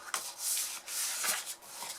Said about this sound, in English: we're going to fold and burnish our score lines